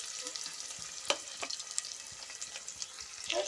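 Finely chopped large onions frying in hot oil, giving a steady close sizzle with a few sharp utensil scrapes and taps against the pan.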